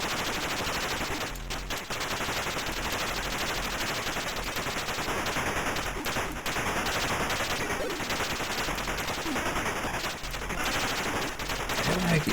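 Rapid bursts of gunfire in the Atari ST video game Resolution 101, loud and continuous over a busy, dense game soundtrack with no pauses.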